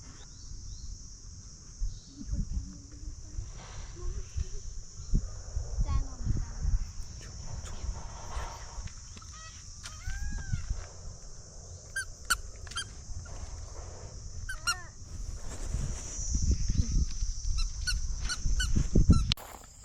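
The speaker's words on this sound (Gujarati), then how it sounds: "જો મોર બોલે મોર જો અવાજ સાંભળો" A peacock gives loud honking, wailing calls repeatedly over a noisy outdoor evening scene in nature, with voices nearby and a steady insect drone in the background.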